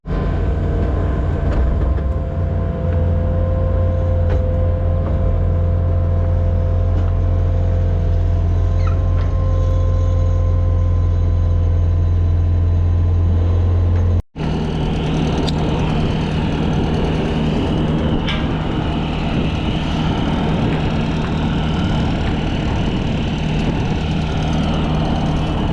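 A skid steer loader's engine runs loud and close on a farm, a steady heavy diesel drone that continues unbroken apart from a brief cutout midway.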